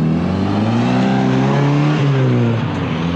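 A 1986 Ford Ranger pickup truck driving for a brake test after new brake fluid, its engine loud and near, revving with rising and falling pitch as it accelerates, with no talk over it.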